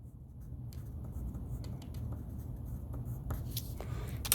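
Chalk or marker scratching and tapping on a classroom board during an earth science lesson, steady strokes running several seconds with a few sharper taps near the end, close and fairly quiet.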